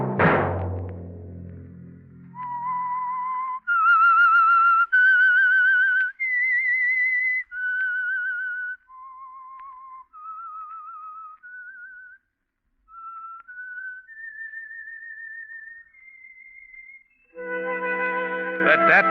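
A single whistler carries a slow, eerie melody of sustained notes, clear and close, framed by brief orchestral chords at the start and end.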